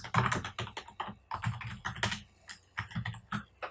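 Rapid typing on a computer keyboard, close and clear, with bursts of clattering keystrokes separated by brief pauses and no talking.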